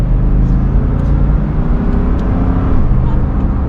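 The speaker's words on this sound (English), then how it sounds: "And the V8, as I accelerate," A Lexus GX 460 with its naturally aspirated 4.6-liter V8 accelerates: a steady, loud, low engine drone builds smoothly for a few seconds, with someone talking over it.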